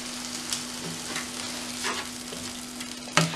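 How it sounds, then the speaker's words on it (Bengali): Marinade spice paste added to a fried mutton leg piece for a wedding-style roast, producing a close, steady sizzle with intermittent stirring scrapes, a faint hum beneath, and a sharp utensil clank near the end. "ম্যারিনেশনের যে মশলাটা ছিল ওই মশলাটা দিয়ে দিচ্ছি"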